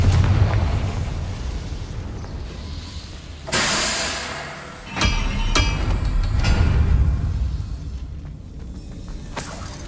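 A Confringo fire spell blasts in Hogwarts Legacy, a sudden loud burst of explosive roar followed by a fading rumble, then sharp cracks and a second blast with lingering crackle.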